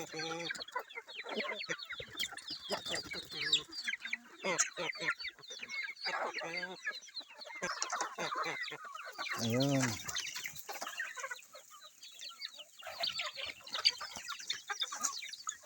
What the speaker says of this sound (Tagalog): ito yung manok dito sa farm, for sale yan